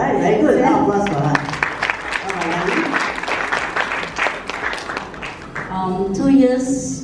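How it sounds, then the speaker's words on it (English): At a life group meeting, a room of people applauds a group member with a dense burst of clapping, while voices talk and chatter through it. "Now, applause for her."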